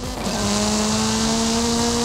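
A Chevrolet Camaro driving in the Fortnite video game, a loud, steady engine drone with sustained tonal whine held throughout, close and continuous with no talking.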